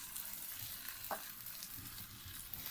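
Eggs being stirred and scrambled in a pan for egg brain masala, a steady low sizzle and frying crackle running throughout with soft scraping, no voices.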